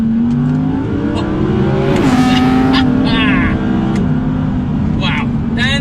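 A 2019 Audi R8 V10 Performance engine screams loud and close at high revs in second gear, its pitch climbing and then dropping, with a brief voice exclamation over the roar.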